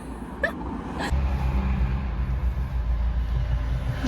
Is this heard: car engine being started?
yes